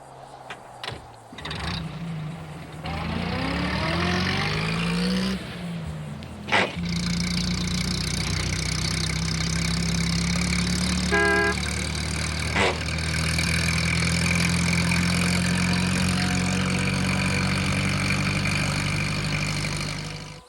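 Small engine-like drone from a toy truck running during a model railway demonstration, steady and continuous for the whole stretch with a few clicks and clunks and a rising whine near the start.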